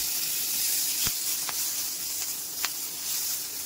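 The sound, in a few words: tomatoes sizzling as they are added to hot oil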